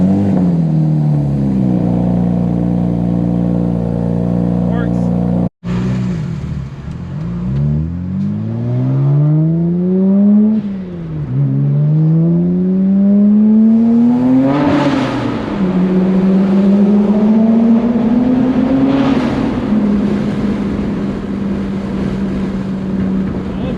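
A BMW 135 with the N54 engine idles after a spark plug change, then revs up and settles several times, close and loud.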